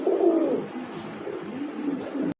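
Pigeons sold at a Bangladeshi bird market cooing close by, a low throaty warble repeating in rolling bursts, ending with a sharp click, no speech.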